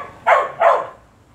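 A dog barks twice in quick succession, close and fairly loud, with two sharp bursts followed by quiet room tone and no talking.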